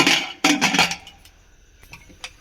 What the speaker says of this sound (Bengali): দিয়ে আমি এবারে প্রেসার কুকারের ঢাকনাটা দিয়ে